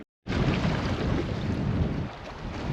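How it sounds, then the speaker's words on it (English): Strong, steady wind roars across the microphone aboard a small fishing boat at sea on the Solent off Hill Head, a continuous broadband rush that dips slightly near the end. "The old wind's picking up"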